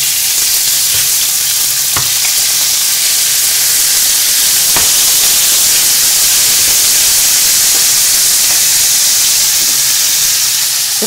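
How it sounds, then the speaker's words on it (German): Meat seasoned with taco spice sizzles loudly and steadily in a hot frying pan, a dense hiss that lasts throughout with a few faint clicks and no voices. "Jetzt ist schön heiß die Pfanne und jetzt geben wir unser Fleisch dazu."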